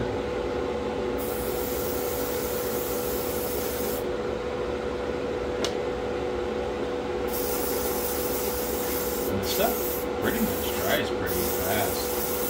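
Primer is sprayed onto a Tamiya 1/35 scale M3 Lee tank model inside a spray booth: a steady airbrush or booth-fan hiss runs throughout, with longer bursts of spray hiss and a voice talking over it.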